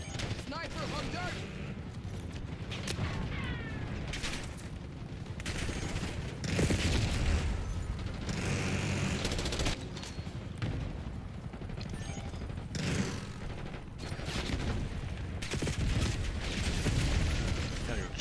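In Black Ops 6 on Nuketown, an enemy marksman fires his sniper rifle amid a dense run of sharp gunshot cracks and mechanical clatter. The shots repeat throughout at close range, with a player's voice talking over parts of it.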